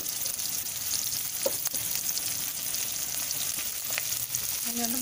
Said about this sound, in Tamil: வெங்காயம் பச்சை மிளகாய் அது கூட கருவேப்பிலை சேர்த்துக்கலாம்